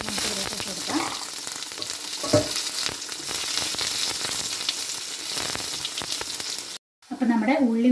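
Thinly sliced shallots sizzle loudly in hot oil with mustard seeds, a dense steady crackle broken by stirring scrapes, with a brief cutoff near the end and a voice faintly audible.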